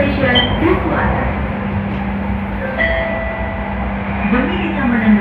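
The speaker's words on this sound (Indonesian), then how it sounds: "Kereta akan tiba di stasiun akhir Duku Atas." A Jakarta MRT train runs into Dukuh Atas station with a steady rumble and whine of traction motors, heard from inside the carriage while an onboard announcement voice talks over the running noise.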